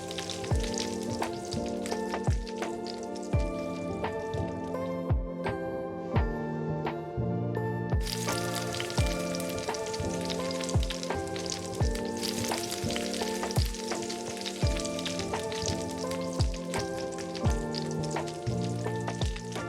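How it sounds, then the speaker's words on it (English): Food fries in a hot skillet with olive oil, giving a steady close sizzle with regular sharp crackles and pops throughout, and nobody speaks. "In a hot skillet with olive oil. Now fry them on both sides until they're golden."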